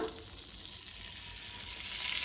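Butter and oil heat in a pan on a gas stove with a faint, even sizzle and hiss that swells slightly toward the end, quiet and steady with no voices.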